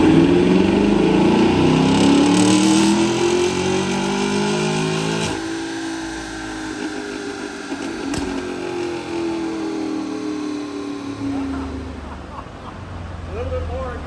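A 2023 Camaro with an LT1 V8 pulls on a dyno after a tune. The engine roars loudly as the revs climb, then falls away, and a second softer rising pull follows as the sound winds down.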